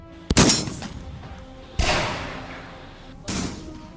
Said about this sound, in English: Gunfire has a distinctive sound.